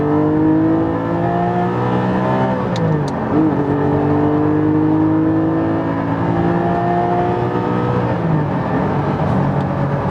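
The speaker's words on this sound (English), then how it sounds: "naturally aspirated. I'm on Cup 2 tyres, so we can't be going wild too soon, but listen to this up the rev range." A naturally aspirated Porsche 718 Cayman GT4 on Cup 2 tyres revs up through its range, a loud, close engine note climbing steadily in pitch with a brief dip and recovery before pulling on again.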